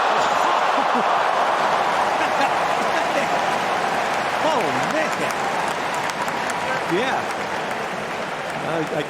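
Tennis crowd at the US Open applauding and cheering, a loud, dense, continuous roar of clapping that fills the whole stretch, with faint whistles rising through it.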